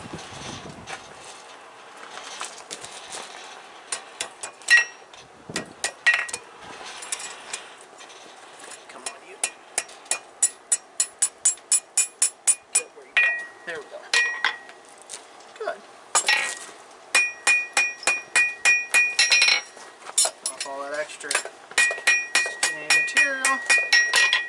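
A blacksmith hammers at the anvil while forge welding gathering tongs at a demonstration, striking bright ringing blows that come in quick rhythmic bursts, loud and close, with people talking between them.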